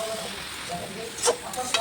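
A spatula stirs fiddlehead fern greens frying with prawns in a pan, giving a soft steady sizzle with a couple of brief scraping clicks near the end of a short burst.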